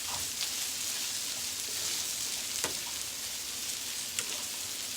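Steady hissing sizzle from wood ear mushrooms frying in a pan, with occasional sharp pops rising above it, close and continuous with no talking.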